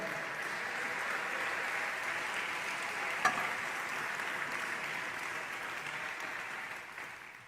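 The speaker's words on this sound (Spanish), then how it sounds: "Fuerte el aplauso al Señor." A church congregation applauds for the Lord during a sermon, steady moderate clapping that runs the full stretch and fades slightly near the end, with one sharp louder clap standing out partway through.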